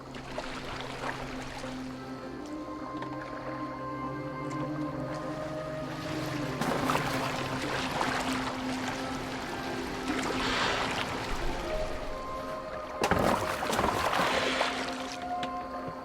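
In Assassin's Creed Valhalla, a boat glides over water with a steady wash of waves and splashing, soft oar strokes, and a sustained low musical drone underneath, with a couple of louder surges of spray.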